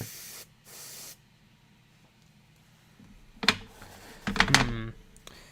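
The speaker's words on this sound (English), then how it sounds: "whenever you're airbrushing, it's always smart to like clean your airbrush in between colors" Airbrush spraying paint onto a Warhammer 40k Primaris Chaplain on Bike miniature, heard as two short bursts of hiss near the start, followed later by clattering handling noises.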